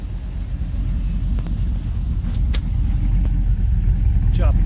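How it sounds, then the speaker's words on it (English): Old truck engine with a lumpy cam idling outdoors in winter: a loud, choppy, uneven low rumble with a loping rhythm and some wind buffeting the microphone. "you want to listen to the lumpy cam?"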